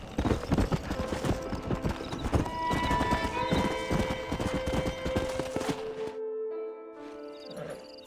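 Horse hooves clip-clop in a quick, uneven rhythm as a stallion trots in the Red Dead Redemption video game, close and fairly loud, then stop abruptly into a brief quiet tail with a faint snort.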